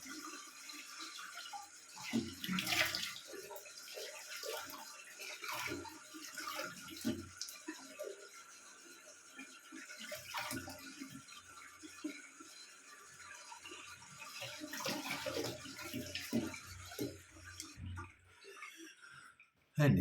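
Water runs from a tap for rinsing, with splashing and gurgling that rise and fall over about twenty seconds. A voice is heard faintly at moments, and the clip ends with a sudden knock.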